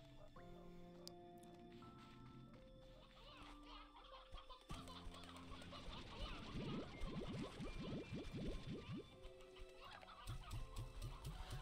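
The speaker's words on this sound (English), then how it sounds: "Oh, one's an elder hen, one's an elder roostro." Hens and roosters clucking and crowing in a video game, with layered game music tones and a dense run of bird calls in the second half, no speech heard.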